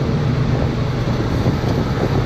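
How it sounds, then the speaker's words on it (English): Loud, steady wind roaring into the microphone in the back of a minitruck fire truck at highway speed, a dense continuous rumble with no break. "It's definitely windy back here"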